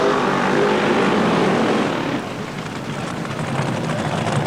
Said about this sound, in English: And a colossal burnout there from Rico.